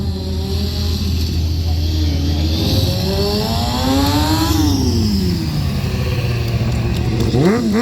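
A motorcycle engine at a two-brothers stunt show at the Copdock bike show revs up and down in rising and falling sweeps over a constant loud idle, with a crowd-filled outdoor background.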